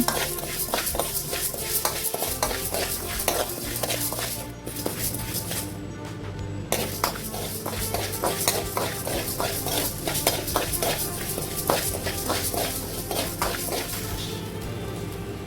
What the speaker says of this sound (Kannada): ಇಲ್ಲಿ ತೊಗರಿ ಬೇಳೆ ನೂರ ಇಪ್ಪತ್ತೈದು ಗ್ರಾಮ್ ತಗೊಂಡಿದ್ದೇನೆ ಆಯ್ತಾ ಅದನ್ನು ಕೂಡ ಚೆನ್ನಾಗಿ ಪರಿಮಳ ಬರುವವರೆಗೂ ಫ್ರೈ ಮಾಡ್ತಾ ಇರ್ತೇನೆ